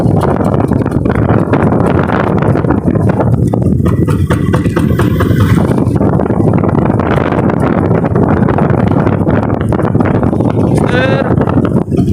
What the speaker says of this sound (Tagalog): ang hangin sobrang lakas